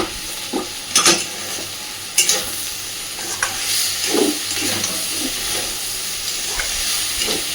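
Mixed vegetables fry on a gas flame kept at medium for a fish-roe chorchori, with a steady sizzle and intermittent scraping stirs of a spatula in the pan, close and fairly loud, no voices.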